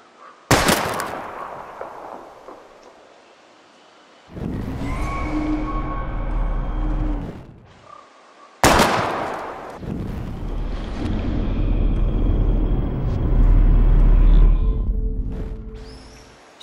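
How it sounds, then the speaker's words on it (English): Two loud gunshots fired at bottles in Life Is Strange, each sharp crack followed by a long rumbling outdoor wind and ambient wash, with a quieter gap between. "We're gonna shoot all these bottles without wasting a single bullet."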